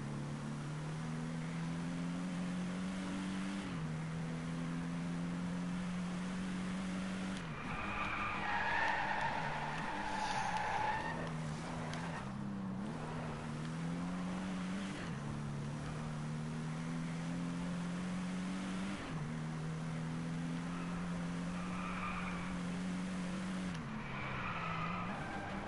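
Tire squeal from a car drifting in the Driveclub racing game, with repeated long screeching slides over a droning engine, loud and continuous with brief shifts in pitch.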